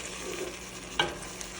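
Mung beans being stirred together in a cooking pan, a quiet soft sizzle with one sharp scrape or clink of a utensil partway through.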